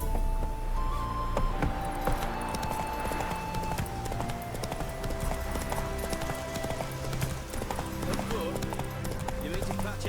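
Horse hooves clatter at a gallop in The Witcher 3, set in the city of Novigrad, a steady clip-clop rhythm running the whole time under a busy mix of game music and ambient street sound.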